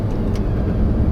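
A MAN TGM 18.250 refrigerated rigid truck with an automated manual gearbox drones at speed while shifting up into 11th gear, a steady loud low engine rumble heard from inside the cab.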